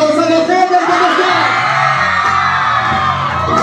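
Concert crowd at a reunion show cheering, yelling and whooping loudly and without a break, a dense wall of voices with only faint clapping underneath.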